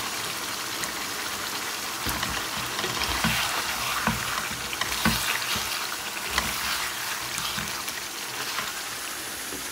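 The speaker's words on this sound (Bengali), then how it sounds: "এই যে চিচিঙ্গা ভাজি করে নিচ্ছি" Snake gourd frying in a pan beside potatoes, a dense continuous sizzle with crackling pops and occasional louder spits, close and steady throughout.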